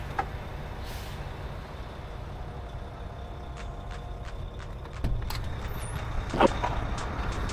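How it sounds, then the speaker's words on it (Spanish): A semi truck's air brakes engage with a sharp hiss and pneumatic clicks over a steady low diesel idle rumble, a louder burst near the end, no talking. "Aplicamos los dos frenos."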